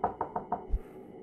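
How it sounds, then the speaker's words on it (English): Four quick, hollow knocks on a door in a horror video game, evenly spaced and fairly close, followed by a single dull low thud, with no voices. "I don't know who the hell is knocking on my door."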